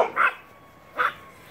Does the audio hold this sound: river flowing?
no